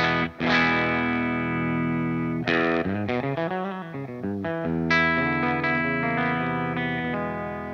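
Electric guitar through a Redbeard Red Mist mkIV overdrive pedal with the gain turned all the way down, ringing sustained chords and a descending run of notes with mild grit and chorus-like shimmer, loud and close.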